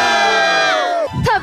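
A studio audience at a Taiwanese TV variety show lets out loud, high-pitched screams that slide downward, followed by a burst of excited cheering and whooping.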